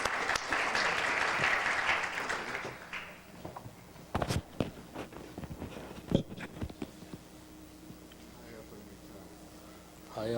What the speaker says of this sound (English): So I'd like a warm applause for Dr.